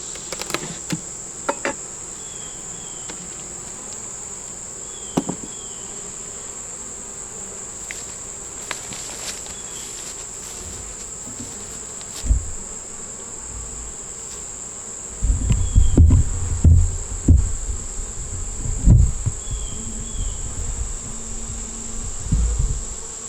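Honey bees in an open hive that holds a yellow queen and many beetles give a steady, calm high-pitched hum throughout, with a few sharp knocks and heavier handling thumps near the end.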